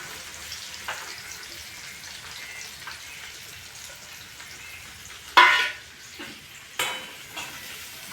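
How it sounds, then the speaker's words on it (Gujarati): Onions fry in hot oil for a peanut fritter curry, a continuous close sizzle with scattered crackles, then a louder burst of spattering clatter and a second sharp hit near the end, no talking. "ડુંગળી કરકડવા દે તેલમાં"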